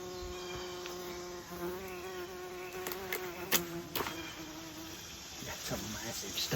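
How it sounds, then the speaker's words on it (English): Bees buzz around sunflowers and a large broken sunflower stalk lying on a garden bank. A dense, continuous insect hum is heard up close, with individual buzzes swelling and passing. "The bees, of course, are just loving it."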